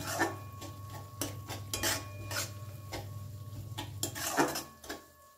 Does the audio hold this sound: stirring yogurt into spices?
yes